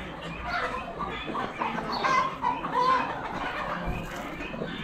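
Chickens cluck in a busy barn at an Amish animal auction, a rooster and chicks among them, with a steady crowd murmur running underneath.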